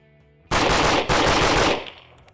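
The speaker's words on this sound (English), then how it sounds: "This is my LaRue OBR. Shooting full power 308 ammo." Rapid burst of gunfire from a LaRue OBR rifle shooting full-power .308 ammunition, loud and close, with a brief break mid-string before a second burst that trails off into echo.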